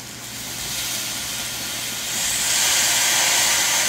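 Mushrooms and garlic sizzle in a hot pan for a mushroom carbonara, a steady close hiss that swells louder partway through, with no talking.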